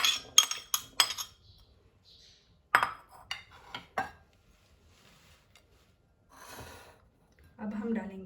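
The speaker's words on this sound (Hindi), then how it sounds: "हम एक बोल लेंगे और उसमें इन सब चीज़ों को बारी बारी मिक्स कर लेंगे" Channa chaat ingredients are mixed in a bowl, with scattered close clinks and taps of a utensil against the bowl between quiet pauses and some soft scraping.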